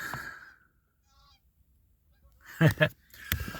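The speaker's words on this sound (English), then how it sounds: "look at these geese right here" Geese on the docks along the Siuslaw River on the Oregon coast, honking: a nasal call at the start, a pause, then a close burst of several loud honks near the end, heard alone without talk.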